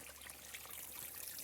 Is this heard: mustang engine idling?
no